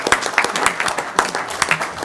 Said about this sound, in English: give him a round of applause for what he's done this year